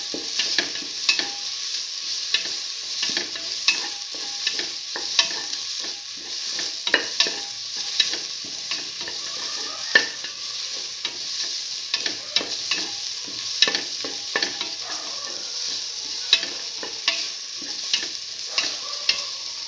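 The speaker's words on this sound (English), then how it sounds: "keep on sauteing." Ingredients for a black lentil stew sizzle steadily while being sautéed in a pan, with frequent scraping stirs and clacks of a utensil against the pan over a continuous frying hiss.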